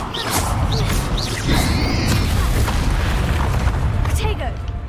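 Confringo blasting spell explosions in the Hogwarts Legacy video game, a dense rumbling roar of booms and crackling bursts with whooshing effects, sustained and loud under game music and a shouting voice.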